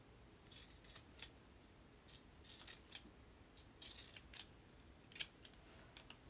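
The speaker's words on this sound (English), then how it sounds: "I used my decorative scissors to cut the edge." Decorative scissors snip along a paper edge while making small paper flowers, a quiet run of crisp close cuts in irregular bursts with no talking.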